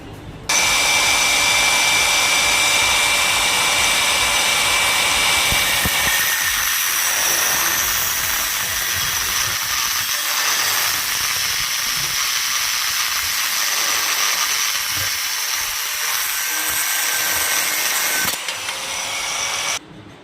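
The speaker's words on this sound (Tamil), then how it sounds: "இப்போ இந்த க்ரோம் ராடை லென்த் மார்க் பண்ணியிருக்கிறோம். இதை நம்ம கட் பண்ண போகிறோம்." A chrome rod is cut on an industrial lathe, giving a loud, continuous hiss and whine of machining that holds steady for most of the clip. A thin tone sits in the first few seconds, and the sound drops off abruptly near the end.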